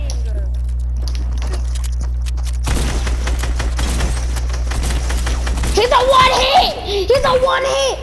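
Rapid bursts of video game gunfire during a crouching firefight, clattering on top of a steady low hum, with a voice talking over the shots.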